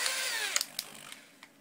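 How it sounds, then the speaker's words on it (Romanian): An electric drill driving a valve seat grinding tool whirs steadily at its lowest speed, its motor tone sliding slightly, followed by a few sharp clicks and taps as it winds down. "mașina de găurit, este dată la viteza minimă"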